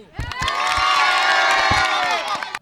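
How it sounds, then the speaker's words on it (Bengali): A crowd at a temporary cattle market for Qurban in Postogola, Dhaka, bursts into loud cheering and clapping with children shouting, one sustained roar that rises quickly and then cuts off, close and dense. "সবাই আমরা প্রথমে একটা হাততালি দেবো"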